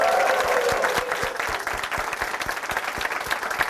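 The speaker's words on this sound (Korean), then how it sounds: "우리 자매님께 다시 한번 뜨거운 박수 부탁드릴까요?" Warm, sustained applause from a church congregation in a Korean Christian broadcast studio, dense rapid clapping filling the whole stretch at a steady, fairly close level with no talk over it.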